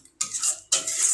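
Chicken being stirred in a pan with turmeric and salt for a Bengali chicken kosha, two quick scraping strokes of a spoon against the metal, close and crisp with no talk.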